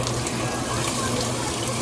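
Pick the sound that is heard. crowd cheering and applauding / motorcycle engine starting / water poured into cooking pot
water poured into cooking pot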